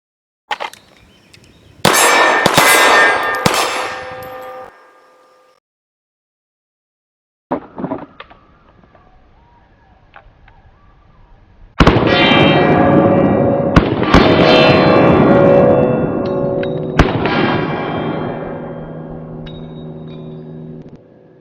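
Lionheart LH9 pistol fired double action from hammer down, several sharp loud gunshots in two groups separated by quiet pauses, each bang ringing out briefly with metallic echo.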